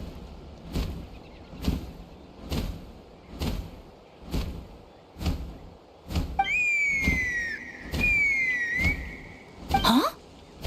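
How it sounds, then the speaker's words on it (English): Whistle in Genshin Impact, a shrill two-part call that rises and slides across several seconds over a steady rhythm of heavy thumps, ending in a quick upward sweep. "That sounded like a whistle."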